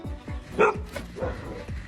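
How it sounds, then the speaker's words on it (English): A frightened dog barks and yips repeatedly at its owner's costume, a quick run of close, loud barks with short whimpering yelps between them. "Dog is terrified of its owner's costume."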